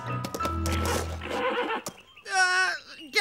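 A horse gives a loud, quavering neigh after a jumble of clattering and musical noises, the whinny rising and trembling for about a second.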